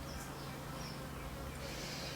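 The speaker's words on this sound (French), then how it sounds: "Que l'abeille va me piquer." A honeybee buzzes faintly indoors, a thin steady drone over low room hum, with no voices across the short stretch.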